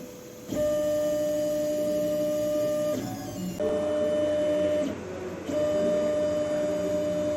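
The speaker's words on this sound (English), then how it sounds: "the nozzle is going to print the base structure layer by layer." A 3D printer lays down the base structure of a Geneva mechanism layer by layer, giving a steady close whine of stepper motors in bursts that pause briefly and resume, with no talk.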